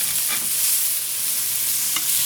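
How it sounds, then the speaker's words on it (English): Sausages sizzle loudly and steadily in a pan, with a couple of faint taps as tongs turn them over. "we're going to go ahead and flip these sausages over"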